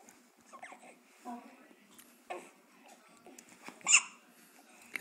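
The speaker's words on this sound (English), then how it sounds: "Got the hiccups." A baby's hiccups come as a few short bursts, one loudest near the end, amid soft breathing and small whimpers, with an adult talking quietly nearby.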